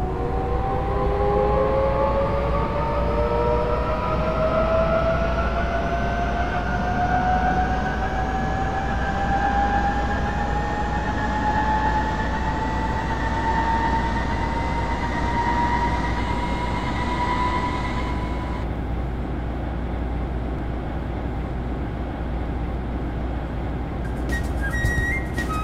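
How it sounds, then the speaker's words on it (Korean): A Korean metro train on Line 15 pulls away and runs along the rails, with a loud continuous rumble and rising motor whine climbing in pitch before easing off near the end. "열차가 출발하였습니다."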